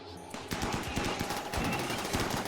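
Rapid automatic gunfire in the video game Rimworld, a fast burst of repeated shots fired at a ship, loud and sustained over a low background.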